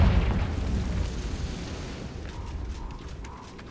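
A Confringo fire spell blasts in Hogwarts Legacy as a loud boom that opens hard and then rumbles and decays over a few seconds.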